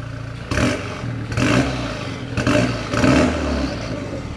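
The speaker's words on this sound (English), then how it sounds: "That's made the 4-cylinder sound better." A Renault Megane RS250's 4-cylinder engine with a decat Scorpion exhaust blips through four short, loud revs close by, each rising and dropping back to a rumbling idle.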